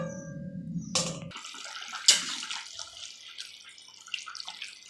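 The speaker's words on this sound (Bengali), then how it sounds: "এবার আমি জল দিয়ে দেবো, তোমরা যতটা ঝোল খাবে সেই পরিমাণে তোমরা জলটা দেবে" Water pours and splashes into a cooking pot for a raw banana and rohu fish curry. The pour runs for about a second, then softer drips and clinks follow up close, with no talking.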